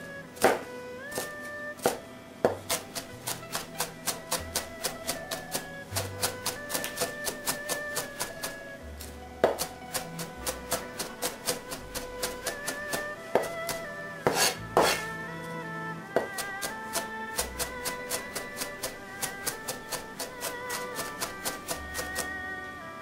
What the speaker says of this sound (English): it's better to chop cabbage by hand